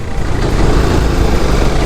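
Tractor engine running on a narrow mountain road in Uttarakhand, a loud, steady low diesel drone with constant rumble and no pauses.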